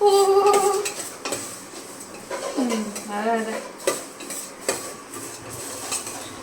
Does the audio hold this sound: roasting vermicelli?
yes